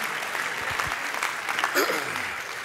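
A burst of crowd applause, brisk and fairly close, with a voice speaking over the clapping.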